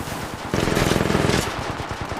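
Rapid automatic gunfire in the Apex Legends Mobile video game, a close, steady burst of shots lasting about a second amid ongoing background battle noise.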